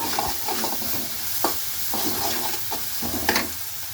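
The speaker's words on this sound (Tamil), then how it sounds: "கொஞ்சம் வதக்கணும்." Tomatoes sauté in a hot pan for a homemade vegetable side dish, a continuous hiss and sizzle broken by repeated scrapes and taps of a spoon stirring through them.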